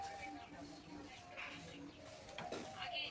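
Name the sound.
pigeon cooing in a cage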